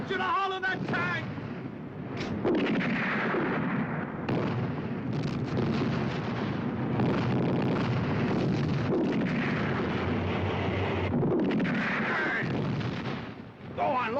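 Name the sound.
gun firing at a tank in battle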